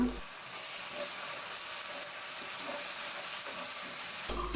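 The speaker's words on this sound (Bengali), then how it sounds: "দেড় টেবিল চামচ পরিমাণ পেঁয়াজের পেস্ট এখন নাড়াচাড়া করে বেশ কিছুক্ষণ ভেজে নেব" Onion paste fries in a pan while it is stirred, making a steady soft hiss and sizzle that continues without a break, with faint scraping from the stirring.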